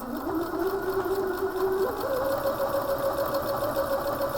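Sewing machine running steadily through a forward-and-backward stretch stitch, a continuous mechanical whir with a humming motor tone that shifts pitch slightly partway through, close and alone.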